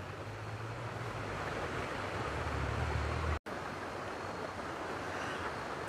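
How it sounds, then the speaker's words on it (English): Water laps at a campsite shoreline in a steady, soft wash of broadband noise with light wind, continuous and fairly faint, with one brief dropout partway through and no talking. "I'm just gonna lean back and listen to the water."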